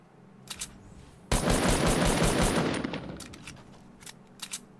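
Fortnite battle royale gunfire: a sustained, loud burst of rapid automatic shots lasting about a second and a half, with a few sharper isolated shots before and after it. No one talks.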